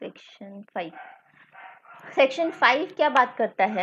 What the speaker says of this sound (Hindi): आप मधुर गीत सुन सकते हो कुत्तों का